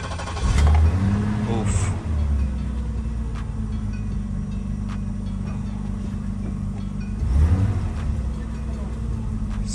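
A BMW E36 drift car engine cranks and catches, then settles into a steady low idle rumble close by, with a brief rev burst near the end; a person voices a short exclamation.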